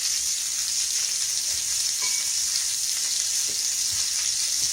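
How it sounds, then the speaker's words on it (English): Hamburger steak and onions fry in very hot grease, a loud, dense, even sizzle crackling nonstop from start to finish with no talking. "And this onion is going in that hot, hot grease with that."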